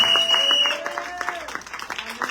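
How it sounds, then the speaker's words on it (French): Congregation applause at a French-speaking church service: scattered, uneven claps over sustained keyboard-like tones, fading into sparser claps toward the end. "Applaudissez pour le Seigneur."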